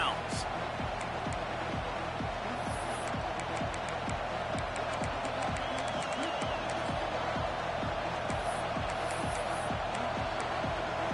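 Stadium crowd noise in the NCAA 26 college football video game is a steady, dense roar beneath a commentator talking, with a regular rapid thumping rhythm running throughout.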